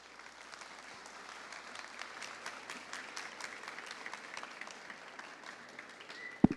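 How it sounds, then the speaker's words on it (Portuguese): Listeners at a lecture on human rights education and culture clap for the speaker, giving a soft, even patter of applause that sounds somewhat distant and continues throughout, with a sharp knock near the end. "vocês já bateram palmas já para o nosso palestrante"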